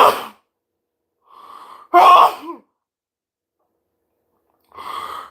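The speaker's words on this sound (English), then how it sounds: "oh, I gotta sneeze." A short intake of breath, then one loud, sharp sneeze close by, with brief breathy sounds before and after in the quiet.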